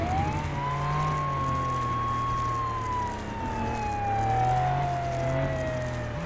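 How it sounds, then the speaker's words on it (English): A continuous wailing siren from the police video game Flashing Lights sweeps slowly up and down, loud and steady, with a low engine hum underneath and no talking. "That's what the sirens sound like at the moment."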